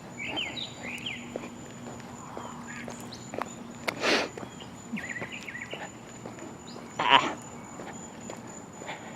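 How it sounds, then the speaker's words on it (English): Bird calls from up in a tree, mostly soft chirps with a couple of louder bursts near the middle and later, over faint outdoor background noise and occasional footsteps. "There's a bird up there in that tree somewhere."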